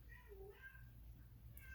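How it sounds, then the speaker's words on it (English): A cat meowing softly indoors, a couple of faint high mews over a low background hum, distant and quiet. "If you can hear that, it's the sweetest meow."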